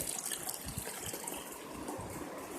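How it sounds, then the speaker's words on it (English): Water drains from a tank in a steady gushing, trickling flow, moderately quiet and continuous with no voices. "we are decreasing the level of water in one tank only"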